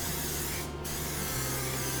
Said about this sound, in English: I'm going to spray this good with an olive oil spray.